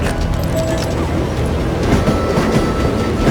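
A loud, close train rumble in the video game Call of Juarez: Gunslinger, with a continuous rolling clatter of wheels on track, steady throughout.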